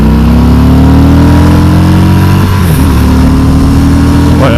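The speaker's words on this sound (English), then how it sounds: "Boy, that hits the rev limiter faster than I'm used to, that's for sure." A 2019 Harley-Davidson FXDR motorcycle engine revs hard, the pitch climbing steadily until it hits the rev limiter, then drops back; loud and close, with no voices.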